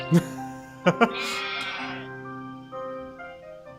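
Goats in the Professor Layton vs. Phoenix Wright video game bleat in a few short, nasal calls close together, followed by a game jingle and sustained tones.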